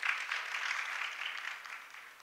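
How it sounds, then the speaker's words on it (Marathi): An audience at a devotional classical bhajan performance claps in sustained, even applause for about two seconds, heard at a moderate distance with no talking over it. "एकदा परत दोघांसाठी टाळ्या वाजवा"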